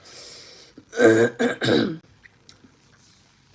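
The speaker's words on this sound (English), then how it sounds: "He's still coughing." A close, raspy throat clearing followed by a short cough, then quiet.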